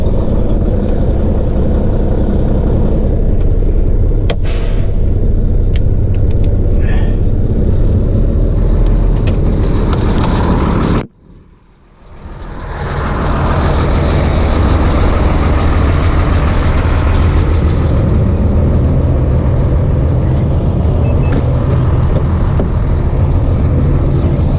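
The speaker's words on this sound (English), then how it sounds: "now I just need to move the truck a little bit" A heavy haul truck's diesel engine rumbles loud and close as the truck is moved a short distance, with a steady drone that briefly drops out and then builds back up.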